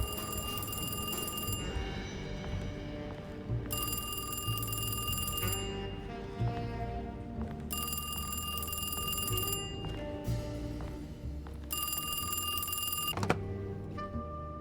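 Telephone ringing in the Alone in the Dark video game: a bright, repeated bell ring comes in regular bursts roughly every two seconds with short pauses between, clear and prominent over a quiet game background.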